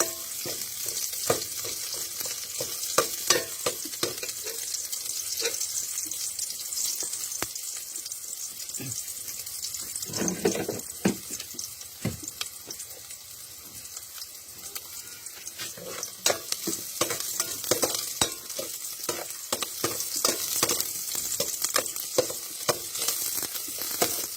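Garlic and other ingredients sizzle and fry steadily in a pan as shellfish is prepared, with occasional stirring scrapes and a brief watery splash near the middle, continuous and close.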